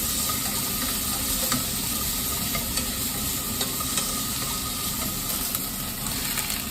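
Burdock, carrot and ginger being stir-fried in oil in a small home kitchen, giving a steady, close sizzling hiss with faint scraping and clicking from stirring throughout.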